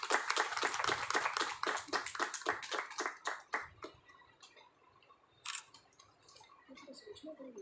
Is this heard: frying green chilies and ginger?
no